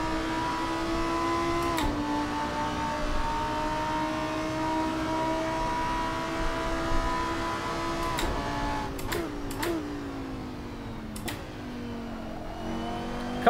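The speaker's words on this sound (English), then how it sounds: "Car sounds really nice." Race car engine in a racing video game played on a direct drive wheel, a steady droning note rising and dipping with throttle through corners, several short clicks and blips near the end, no talk.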